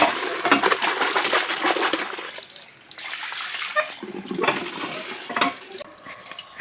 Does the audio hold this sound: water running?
yes